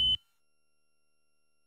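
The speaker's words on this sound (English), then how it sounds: "After about 2 seconds, you'll hear a beep" A Toyota navigation system gives one short, clear electronic beep confirming a saved radio preset, a steady tone that cuts off quickly and is followed by silence.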